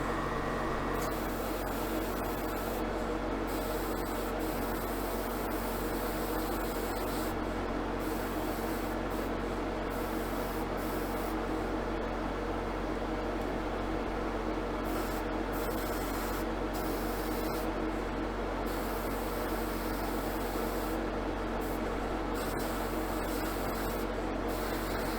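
Sandblasting inside a bare Jaguar E-Type body shell produces a continuous, dense hiss of abrasive spray, steady and close for about twenty-five seconds with brief dips, with no one talking.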